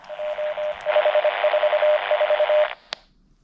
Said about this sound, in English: There is static on the Morse code.